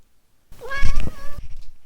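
A cat meows once, close and fairly loud, a drawn-out call with a clear rising then steady tone, followed by faint room noise.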